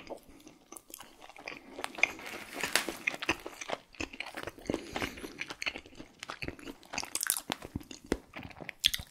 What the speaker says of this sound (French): que c'est plus la pizza de Inox qui te donne envie avec sa belle couleur, ses charmes, un peu croquant